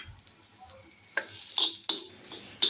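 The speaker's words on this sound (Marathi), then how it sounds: "त्याच्यामध्ये आता खोबरं घालून घेते आणि खोबरं पण छान भाजून घेते" Grated coconut roasts in a pan alongside onion and garlic for a Konkan-style crab curry, with a spoon scraping and tapping the metal in a few sharp knocks over a faint sizzle, no voices.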